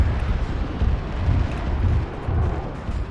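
An explosion in a military video game with tanks and helicopters: a deep, loud rumbling boom that rolls on with several low surges, noisy and sustained for a few seconds.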